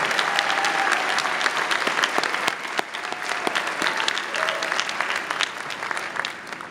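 An audience at an MBA commencement ceremony applauds the award winners, a large hall of sustained, dense clapping with a few sharper individual claps standing out, gradually easing off near the end.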